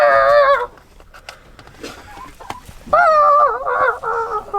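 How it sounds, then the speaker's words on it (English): Loud, harsh honking calls from a chicken near a cow's feed at milking time, two bursts separated by quieter rustling and faint knocks, close to the listener. "scare that chicken away from her feed."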